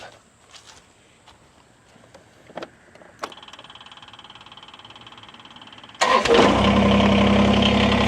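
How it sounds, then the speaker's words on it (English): A tractor engine cranks and catches, then settles into a loud, steady idle close by after a few clicks and a starter whir, before a rototilling job. "But I'm going to start the tractor up here"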